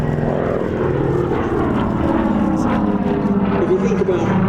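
A four-engine Avro Lancaster bomber passes at an airshow, its piston engines giving a loud, steady, throbbing drone with a rough propeller beat, while a commentator talks over it throughout.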